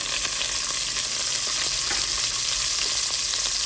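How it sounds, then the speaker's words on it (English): Peppers and onions sizzle steadily in hot leftover grease in a pan, a dense, close, continuous frying hiss with no talking. "in that same grease, let's cook the vegetables"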